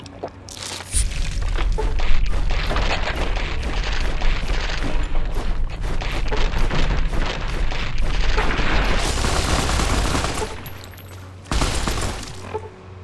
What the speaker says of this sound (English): Let the bombs explode.